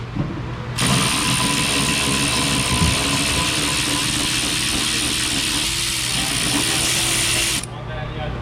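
Powered ratchet tool running steadily on a wrecked car's upper control arm bolts, a continuous loud mechanical whir for about seven seconds with faint clicks beneath, starting and stopping abruptly.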